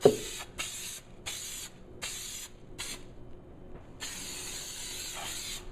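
Hissing bursts of spray adhesive go on while a trunk liner is installed on a Victory Vision motorcycle: about five short sprays, a pause, then one longer steady spray, all close and clear.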